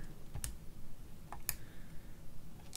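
A keyboard is used to type an equation. A few sparse clicks sound close against a faint background hum.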